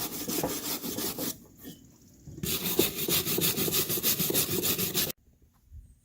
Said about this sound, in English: you're going to want to take a wire brush to these bolts and make sure that they're clean